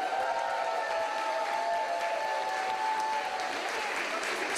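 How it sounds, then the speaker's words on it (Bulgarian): Audience applause at a live fashion-show style event, a thick, continuous roar of clapping with a faint musical tone running underneath, steady and full from start to finish. "Аплодисменти за тях!"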